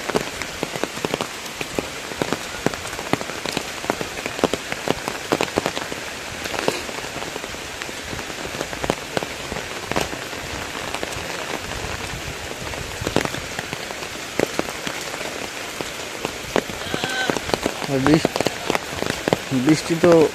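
Heavy rain pouring down on a village during a sudden river flood, a dense continuous patter of drops on surfaces, loud and close throughout.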